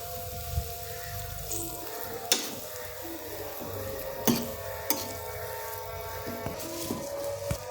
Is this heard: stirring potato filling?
yes